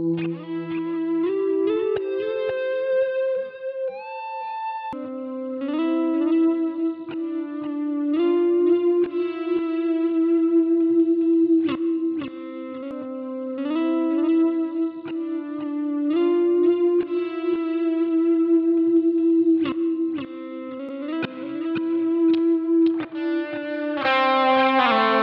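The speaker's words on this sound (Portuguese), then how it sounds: "E ele tem um delayzinho assim." An electric guitar plays through a Line 6 POD HD400 multi-effects unit with a delay effect, sustained distorted notes and chords with repeating echoes trailing each phrase, loud and continuous with no talk.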